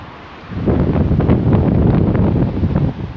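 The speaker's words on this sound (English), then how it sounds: "the wind is crazy out there" Strong wind roars and buffets the microphone outdoors, a steady loud rush with gusty surges and no voices.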